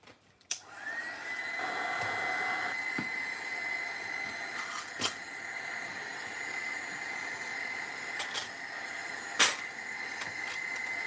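A handheld dryer blows a steady, loud stream of air to quick-dry paint on a mixed-media craft piece, a continuous whirring hiss running the whole stretch after a click at the start, with a few small knocks.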